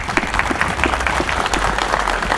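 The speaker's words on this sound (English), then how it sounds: "So, round of applause for them." Steady applause from an audience at a police changing-of-command ceremony in Dearborn Heights, a dense, even wash of clapping with low hum underneath throughout.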